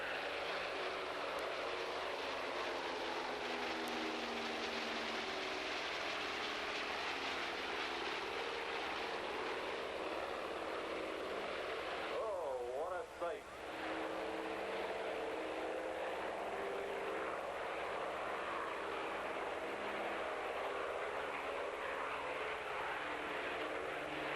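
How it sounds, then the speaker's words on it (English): A huge propeller airplane roars steadily overhead at an airshow, its deep engine drone loud and sustained, with a brief Doppler-like shift as it passes. "Probably the world's largest propeller-driven airplane"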